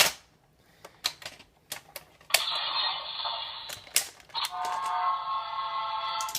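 Sound effects from a ToQger Daikaiten toy cannon: a series of sharp clicks and pops, followed by bursts of bright electronic blasting noise, close and fairly quiet.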